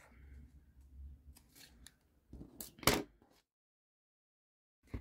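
Scissors snip yarn off a finished crochet rainbow heart keyring, a few close crisp cuts and rustles with a sharp louder snip near the middle, then quiet before a brief final click.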